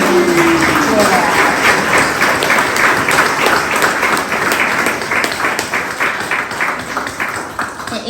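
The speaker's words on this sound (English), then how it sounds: "I think she deserves a huge hand of applause, and her committee team for that." Audience applause at a plaque unveiling and celebration, a sustained dense crackle of many hands clapping, fairly loud and close, gradually thinning toward the end with faint voices underneath.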